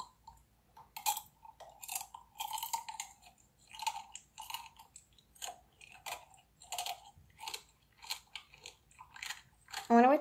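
Crunchy food is bitten and chewed close to the microphone for ASMR, giving a long run of crisp, regular crunches at an even chewing rhythm with no talk.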